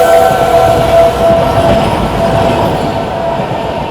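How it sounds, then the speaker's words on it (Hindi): Anand Vihar–Puri Purushottam Express rushing past in fog at high speed, a loud continuous rumble of wheels and carriages with steady rail clatter filling the whole stretch, close by and without a break. "आनंद विहार पुरी पुरुषोत्तम एक्सप्रेस"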